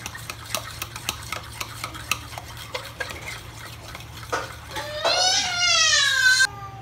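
A mixture for a snack box treat is beaten in a bowl with quick, evenly spaced utensil strikes. Near the end, a brief rising tonal sound joins the rhythmic tapping.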